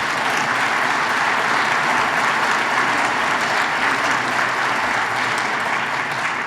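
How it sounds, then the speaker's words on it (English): An audience applauds a university president at Johns Hopkins, a steady, dense wash of clapping from a large crowd that holds evenly throughout. "he deserves a round of applause"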